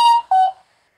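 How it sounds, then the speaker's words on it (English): A mobile phone gives two short electronic tones in quick succession, clear and close, then falls silent. "That was my phone ringing."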